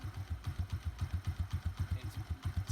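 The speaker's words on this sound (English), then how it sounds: "It's ticking over, but it's ticking over really bad." A cheap used motorbike engine idles roughly close by with a rough, uneven chug, low pulsing beats thudding steadily with a slight stumble in the rhythm.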